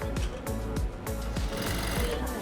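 A domestic sewing machine stitches fabric for a garment vent, running in a steady fast mechanical rhythm with repeated needle strokes, close and continuous throughout.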